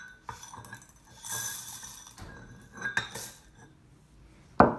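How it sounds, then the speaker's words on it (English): Dry macaroni pasta is poured into a mug in a kitchen, with rattling, clinking pieces tumbling in short bursts and a sharp knock at the end, fairly quiet and close with no talking. "So do you want to pour the macaroni in?"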